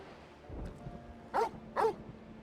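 Torgal, the dog from Final Fantasy XVI, gives two loud, close barks about half a second apart after a few softer sniffs and whimpers, over a low ambient game background.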